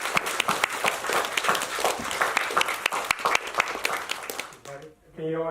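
Audience applause greeting a speaker at a corporate evening talks event, dense steady clapping from a full room for about five seconds before it stops and a voice begins over the end.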